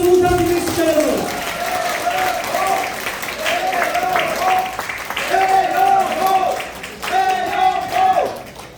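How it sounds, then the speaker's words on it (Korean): Audience applause at a Suwon party members' education session, given for candidate Tae Yong-ho, with a steady, full wash of clapping lasting about nine seconds over music with sustained tones. "우리 태영호 후보에게 다시 한번 큰 박수 부탁드리겠습니다"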